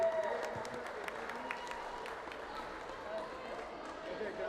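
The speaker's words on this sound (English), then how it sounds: "Give them another round of applause as they exit the facility." An audience at a school cardboard boat race applauds as teams leave an indoor pool facility, with distant, reverberant clapping and crowd murmur under an announcer's voice.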